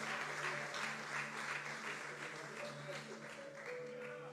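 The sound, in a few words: applause in church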